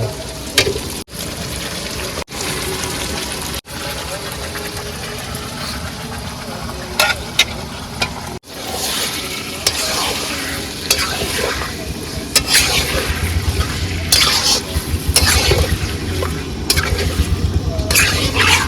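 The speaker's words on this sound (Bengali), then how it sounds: "মশলাটা হয়ে গেলে মাংসটা দিয়ে কষা নেবো" Meat and spice masala being sautéed in a pot: a continuous crackling sizzle with repeated scraping stirs, dull clanks and brief dropouts, loud and close throughout.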